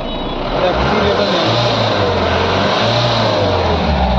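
A Mahindra Bolero pickup engine revs with the accelerator, its low drone rising in two short surges over a steady running hum. The sound is loud and close, with no voices.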